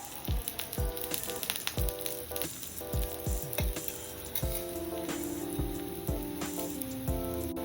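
A village-style rice flour flatbread, biyyapindi rotti, fries in oil with a steady, close sizzle running throughout beneath background music.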